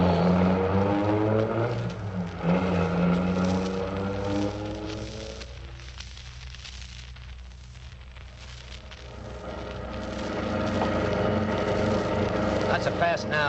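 A getaway car in a radio drama speeds off, its engine droning and rising in pitch, then dipping before swelling again, with voices talking over it.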